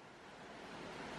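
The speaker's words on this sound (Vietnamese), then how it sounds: "Đoạn dưới này suối nó ồn lắm." A noisy forest stream rushes steadily in a dense, broadband wash, heard faint and distant with no voices.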